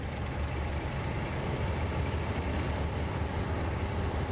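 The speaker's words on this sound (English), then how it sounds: "Oh, hang on, I can hear diesel." A diesel locomotive idles in the railway game Train Simulator 2021 on the Bristol to Exeter line, a steady low rumble that stays even throughout with no talking.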